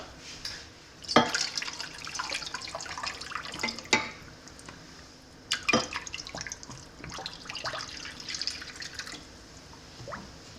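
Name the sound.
hot tap water filling a baking pan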